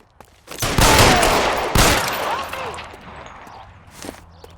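Burst of gunfire in the L.A. Noire video game, a loud volley of shots that fades into echoing decay with faint footsteps and scattered trailing sounds.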